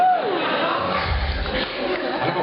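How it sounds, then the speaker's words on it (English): A concert audience at Bush Hall cheers and shouts in a steady, broad wash of crowd noise that holds at an even level for a couple of seconds. "people always cheer for that one"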